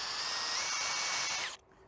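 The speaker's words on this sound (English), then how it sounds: "drill a hole through, 1/4-inch hole, just through the object" An electric drill runs at high speed, boring a 1/4-inch hole through a metal workpiece for a pair of forged tongs; it gives a loud, sustained whine that climbs in pitch midway and then cuts off abruptly near the end.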